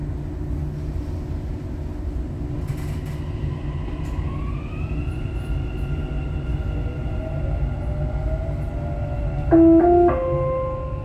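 Dubai Metro train pulling away after its doors close: a steady low rumble with rising whine tones as it accelerates, then a few sharp chime-like tones near the end, no talk.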